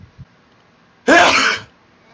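A single sharp sneeze bursts out loudly and close, lasting about half a second after a quiet moment, with faint background noise around it.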